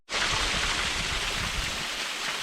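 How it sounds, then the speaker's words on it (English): A hiking creek near a waterfall rushes and splashes in a steady, broadband stream of flowing water, fairly close and continuous from start to finish. "I'm crossing the creek."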